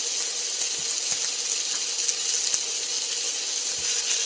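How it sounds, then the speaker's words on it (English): Chicken fajita meat searing in a hot pan, a loud, dense, continuous sizzle with a bright hiss and scattered crackles and pops throughout. "It sizzles well."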